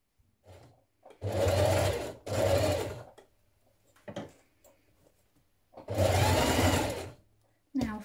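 A sewing machine stitches the double-fold bottom hem of a 1960s vintage dress made from Simplicity pattern 9447. Three loud, close, steady runs of whirring stitching are separated by pauses with soft handling clicks.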